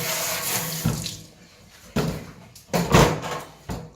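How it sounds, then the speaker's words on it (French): Running tap water splashes into a kitchen sink as a cutting board is washed under it. The sound comes in several loud bursts with quieter gaps between them, and there are a few knocks and bumps of the board against the sink. "On lave la planche."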